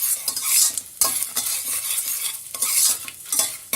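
Dal dry-roasting in a pan is stirred briskly with a utensil, giving repeated scraping, rustling sweeps in bursts about every second or so, close and clear with a light sizzle and no talking.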